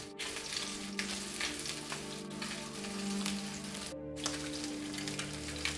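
Fish fries in a pan, giving a steady crackling sizzle with dense popping and spitting that holds level throughout, with no talking.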